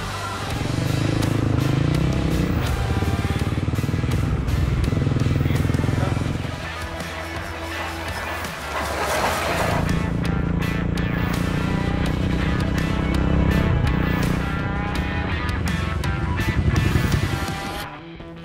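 A motorcycle engine drones steadily while riding a trail in Cambodia, the pitch shifting as it works, with crackling, wind-buffeted texture and some talk mixed in.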